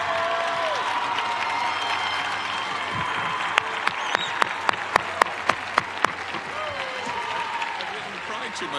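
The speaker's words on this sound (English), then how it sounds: "Standing ovation." Standing ovation for a high school band director after a concert, sustained applause from a large crowd filling the room, with a run of sharper individual claps standing out and a voice briefly speaking over it.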